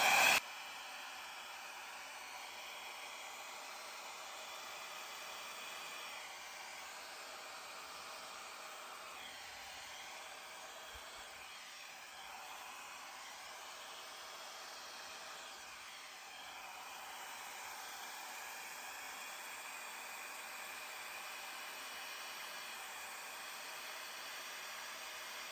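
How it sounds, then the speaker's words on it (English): Hair dryer blowing on its high, cool setting over wet acrylic paint poured on a serving tray, a steady close airy roar that holds without a break. "hairdryer."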